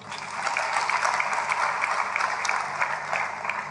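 A church congregation applauds during a sermon, producing a dense, steady burst of many hands clapping together for a few seconds without talk over it.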